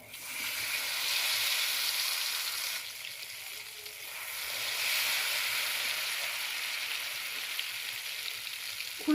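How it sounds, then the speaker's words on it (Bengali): Ladlefuls of ghevar batter hit hot oil, and the frying hiss swells in two waves, one early and one midway, before settling into a softer steady sizzle. "আমি যে ব্যাটারটা তৈরি করেছি, এবার আমি এক হাতা করে একটু ওপর থেকে আমি এই তেলের মধ্যে দিয়ে দেবো"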